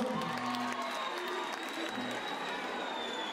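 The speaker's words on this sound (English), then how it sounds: "Can we give them a round of applause?" Crowd applause and cheering at a Women's Day event in Kimberley, a steady wash of clapping with scattered whoops and faint voices at moderate distance, holding level throughout.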